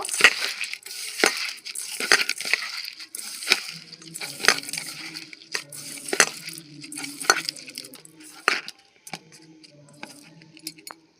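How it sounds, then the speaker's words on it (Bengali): Pitha mixture is kneaded with sugar by hand, giving repeated close, gritty squelching and rubbing strokes in an uneven rhythm, with a few light clinks between them. "ভালো করে চিনি দিয়ে মেখে নেব"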